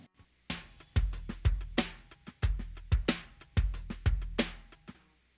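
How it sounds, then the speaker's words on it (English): Layered percussion drum loop from a song's verse, heard alone at moderate level: a steady groove of punchy low kicks and bright snare-like hits repeating in a tight, even pattern. "Here's the sound of the loop in the verse."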